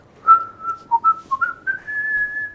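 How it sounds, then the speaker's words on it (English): A person whistles a short melodic phrase of several clear notes, ending on a sustained tone, close and loud with no talk. "You whistling!"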